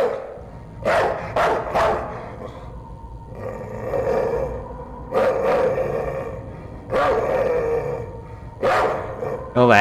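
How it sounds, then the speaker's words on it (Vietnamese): In the horror video game Night People, a dog barks and growls in several loud bursts spread across the span, with a voice talking in between and over them. "Có vẻ là có tiếng sủa hoài."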